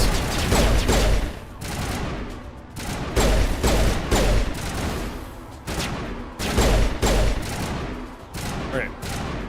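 Bursts of sustained gunfire fill a Mass Effect firefight. Loud, dense volleys rattle in repeated waves with short lulls between them, and voices talk underneath.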